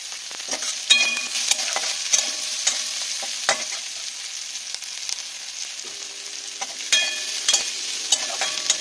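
Fish oil and heads fry in a pan with green chillies and salt while being stirred, a soft steady sizzle broken by repeated scraping strokes of a utensil, close and without voices.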